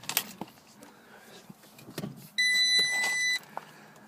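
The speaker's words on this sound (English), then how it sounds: "Electric windows there." Power window motor on a Seat Ibiza with 120,000 miles whines steadily for about a second, close and loud, after a few scattered clicks and knocks inside the car.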